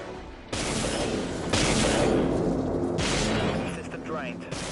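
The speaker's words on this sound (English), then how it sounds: "Activating artillery." Artillery barrage in the naval combat game Dreadnought, a series of heavy booming blasts with rumbling tails and mechanical whirs, loud and close, rolling on for several seconds.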